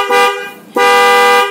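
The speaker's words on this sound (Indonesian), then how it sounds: "Ini suara klakson Densonya ya." A Denso dual-tone car horn blares in two loud, sustained honks separated by a brief dip, heard up close with no talking.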